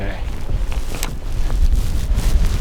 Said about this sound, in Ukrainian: бо вітер піднімається, вітер дує прохладно, щоб Міхали ж не замерз